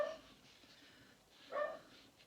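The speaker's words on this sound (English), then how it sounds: "He's talking to the dog and he's started him barking." A dog gives a couple of short, fairly faint barks, one at the very start and another about a second and a half later, with quiet room sound between them.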